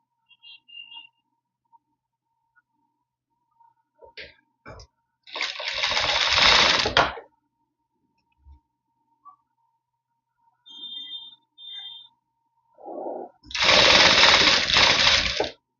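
A sewing machine stitches a straight pant in two loud, steady runs of about two seconds each, separated by quiet handling noises and small clicks.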